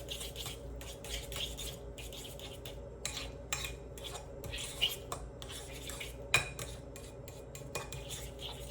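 Egg yolk filling being mixed in a bowl, heard as quiet, rapid clinks and scrapes of a metal utensil against the bowl in an irregular stirring rhythm, fairly close.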